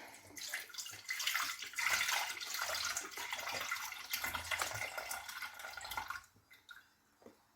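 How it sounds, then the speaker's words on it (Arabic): Milk poured from a half-litre amount into a container at home while making yogurt, a steady liquid splash and gurgle that runs for about six seconds and then tapers off to quiet drips. "نص لتر الاخر غادي نخوف في هذا الاناء"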